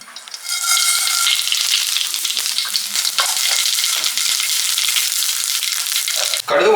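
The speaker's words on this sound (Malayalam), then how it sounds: "എണ്ണ നല്ലോണം ചൂടായതിനു ശേഷം 1 സ്പൂൺ കടുക്," Mustard seeds crackle in hot coconut oil in a pan with a loud, dense sizzle and scattered sharp pops that carry on steadily and end in a brief clatter.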